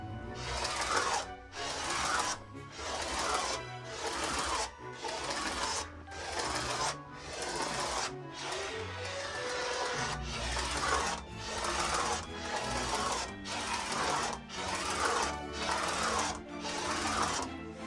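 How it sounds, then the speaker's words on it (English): Fabric for quilt blocks being cut into strips, a steady rhythmic rasping and rubbing repeated in regular strokes about once a second, close and continuous with no talk. "So here I go, cutting strips."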